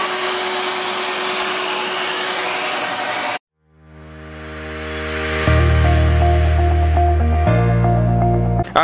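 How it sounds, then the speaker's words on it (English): A shop vac pulling oil out of the spark plug wells of a BMW 335i: a loud roaring whine that cuts out briefly, then spins back up and steadies into a sustained, slightly shifting hum. "I'm gonna go ahead and put this straw also in this shop vac that he has"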